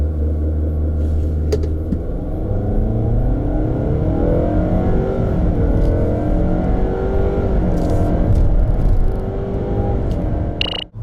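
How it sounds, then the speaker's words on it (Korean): A Nissan Altima, 2.5 or 2.0T, accelerates hard in a test run, its engine note rising and falling through gear changes as a loud, steady rumble carries on without speech. "그렇다면 이번 모델이 보여주는 가속 성능에 대해서 한번 알아볼까요?"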